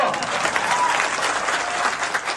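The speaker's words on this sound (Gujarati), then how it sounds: "તાળીઓ પાડો" A crowd at a political rally claps loudly and continuously, dense applause filling the whole moment without pause.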